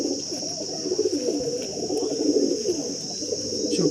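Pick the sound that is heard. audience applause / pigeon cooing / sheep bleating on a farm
pigeon cooing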